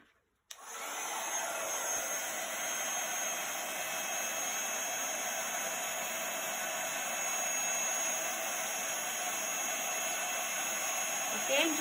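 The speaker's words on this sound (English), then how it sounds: "carefully moving the heat gun over the image" A heat gun blows a steady, fairly soft hiss of hot air over embossing powder on a card image, starting abruptly and running evenly throughout like a hair dryer.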